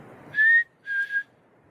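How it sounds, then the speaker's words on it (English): Two clear, high whistled notes from a person outdoors in the mountains at night, the first steady and the second wavering slightly, close and distinct against near silence. "We're out in the mountains at night, and we just whistled."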